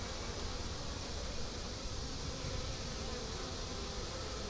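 A dense, steady drone of many honey bees buzzing close by in a honey-bound three-deep eight-frame hive, continuous and even throughout with no other sounds.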